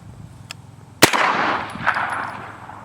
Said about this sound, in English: Oh, you got a good ricochet.